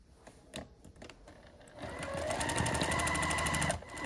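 A sewing machine runs a fast, steady stitch along a quilt block seam after a few quiet handling clicks, close and continuous until it stops near the end.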